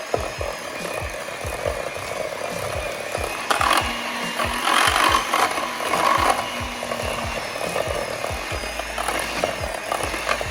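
A kitchen blender whirs through a batch of homemade eggnog, a loud continuous grinding roar with a rhythmic churning pulse that holds for the full stretch, close by with no talking.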